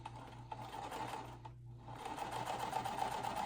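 Sewing machine chain-piecing quilt pieces with a quarter-inch seam: a close, rapid mechanical stitching whir runs throughout, with a brief pause in the middle before stitching resumes.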